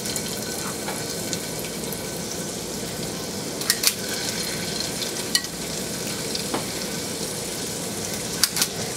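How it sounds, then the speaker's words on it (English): Swedish meatballs sizzle steadily in a frying pan, a constant crackling hiss with a few sharp pops and clinks over it. "I'm just going to fry a few at a time."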